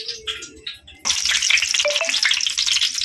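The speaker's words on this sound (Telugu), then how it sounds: "ఈ సెగలో బిస్కెట్ వదిలేస్తున్నాం" Maida biscuits dropping into hot oil and frying, a steady loud sizzle that starts abruptly and continues with bubbling crackle, following a quieter moment of soft handling sounds.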